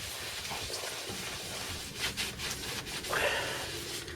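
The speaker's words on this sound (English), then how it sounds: "So just applying some acetone onto a cloth here." A cloth soaked in acetone wipes down a boat hull to clean it. Soft, close rubbing strokes come in irregular bursts over quiet background noise, with no talking.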